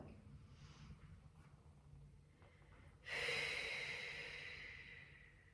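Breathing during a calming pilates twist stretch on the floor: quiet, slow breaths through the first three seconds, then a loud, sharp exhale that rushes out and slowly fades away.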